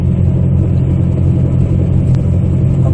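Inside a 2003 Ford Escape hybrid cruising at highway speed on its engine, a loud steady low rumble of engine and road noise fills the cabin without a break.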